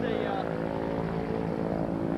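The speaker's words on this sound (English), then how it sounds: "This is a 160 horsepower Lycoming engine." A 160 horsepower Lycoming engine on a light airplane drones loud and steady throughout, its even, rumbling hum unbroken from start to finish.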